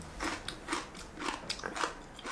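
Someone bites and chews unripened mustard leaf kimchi (gat kimchi), giving soft repeated crunchy chewing sounds at a steady pace, close and quiet, with no speech.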